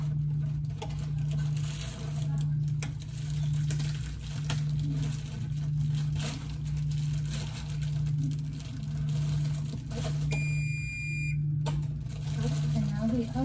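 A kitchen oven gives a short electronic beep once preheated, heard briefly near the end over a steady pulsing hum, with people talking.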